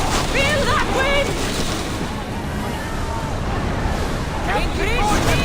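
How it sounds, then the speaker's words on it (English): Steady roar of wind and surging waves around a sailing warship in Assassin's Creed Odyssey, loud and continuous, with crew shouts and whistle-like calls breaking through at the start and end. "Feel that wind!"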